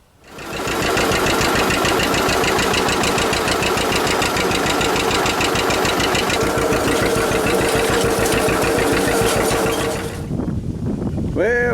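A John Deere-style 620 tractor engine runs at a steady fast chug, loud and close, its rapid even pulses continuing for about ten seconds before the engine note drops away near the end.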